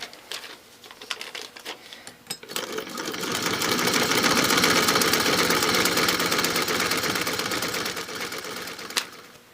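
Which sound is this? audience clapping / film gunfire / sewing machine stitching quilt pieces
sewing machine stitching quilt pieces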